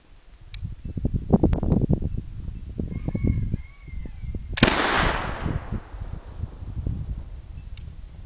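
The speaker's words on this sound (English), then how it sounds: "Now I'm ready to fire." A Revolutionary War flintlock rifle with priming in the pan fires one loud, sharp shot midway, followed by a fading outdoor echo, with rustling and movement before and after.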